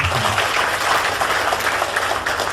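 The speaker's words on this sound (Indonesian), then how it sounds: "Tepuk tangan buat Bapak Ibu." Audience applause at a business seminar, a continuous broad wash of many hands clapping, fairly loud and even from start to finish without speech on top.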